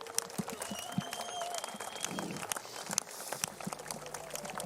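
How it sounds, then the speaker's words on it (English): Crowd at a surfing event in France applauds, a textured spread of clapping with sharp individual claps and faint whistles or cheers mixed in, steady and moderately loud. "Give yourselves a big round of applause"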